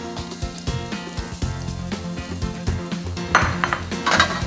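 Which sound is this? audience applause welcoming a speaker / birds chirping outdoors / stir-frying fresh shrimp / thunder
stir-frying fresh shrimp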